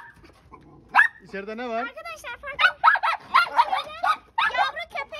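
A mother dog near her puppies lets out a run of sharp barks and yips, close and loud, mixed with someone talking over them.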